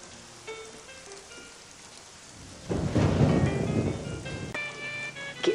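A thunderstorm rolls in with a loud, close crash of thunder rumbling for a few seconds over a steady bed of rain, while faint tonal sounds drift in the background.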